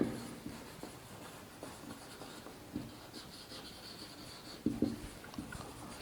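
Pen scratches faintly across paper as a maths solution for a class 7 triangle exercise is written out by hand, in quiet, irregular strokes with small taps.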